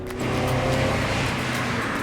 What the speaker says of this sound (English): Hark, the 3-cylinder.